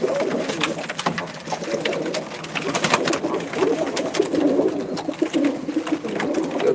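Several pigeons in a loft coo together in loud, close, overlapping throaty murmurs, with sharp flapping or clicking sounds scattered throughout.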